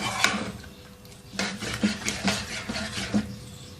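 A spoon scrapes and clinks against a pot while beef karahi with green chillies, julienned ginger and garam masala is stirred, making several close, rhythmic metallic strokes with short pauses between them.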